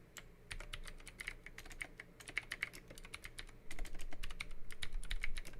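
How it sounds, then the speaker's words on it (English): Rapid, uneven keystrokes on a finicky computer keyboard, clicking in quick bursts and growing a little louder toward the end, with no voices. "My keyboard's been kind of finicky."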